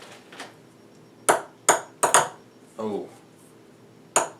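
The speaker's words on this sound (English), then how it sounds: "test out these ping pong balls to make sure they actually work" Ping pong balls bouncing on a hard surface, a handful of sharp, bright clicks spaced irregularly, close and fairly quiet, with a brief spoken exclamation partway through.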